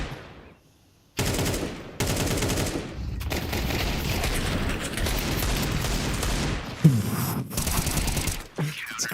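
Rifle gunfire in a Counter-Strike 2 esports match, with dense automatic bursts and rapid shots in several loud stretches broken by brief gaps, heard alone without commentary.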